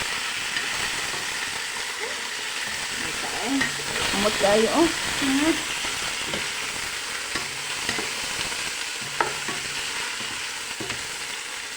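Pork frying in a pot for pininyahang baboy with onion and garlic, a steady sizzle and hiss with a burst of stirring and scraping midway, and a brief spoken remark over it.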